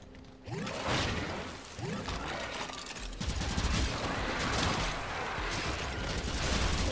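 Rapid, continuous automatic fire from the Aksomati secondary pistol in Warframe, a fast rattling stream of shots with mechanical clicks running nearly nonstop over the whole stretch.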